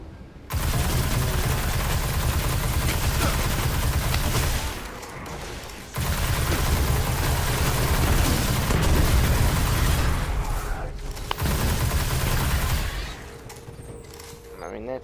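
Nova Bomb ability and gunfire in the video game Destiny: sustained dense blasts and rapid shots, loud and continuous, with a brief lull near the middle and another near the end.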